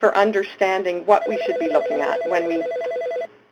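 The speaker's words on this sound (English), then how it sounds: "sorry about that phone" A telephone rings close by with repeated electronic trill bursts under someone talking, the ringing continuing steadily before cutting off near the end.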